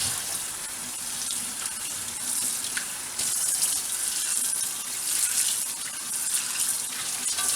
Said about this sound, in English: I'm just washing it with soap and hot water.